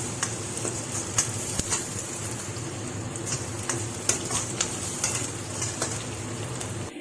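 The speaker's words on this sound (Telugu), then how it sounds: "ఉల్లిపాయ బాగా వేగిపోయింది" Sliced onions and curry leaves sizzle in a pan for an Andhra-style fish pulusu, a steady soft hiss broken by occasional sharp clicks and scrapes of a stirring spoon.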